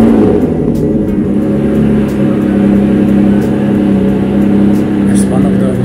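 A 2008 Ferrari 599 GTB Fiorano with its six-speed V12 runs close and loud in a steady, sustained roar with a slight rise near the end.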